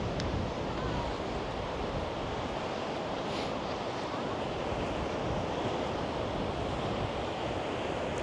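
Rough ocean surf at Navarre Beach churns in a constant heavy roar mixed with wind buffeting the microphone, loud and steady with no speech.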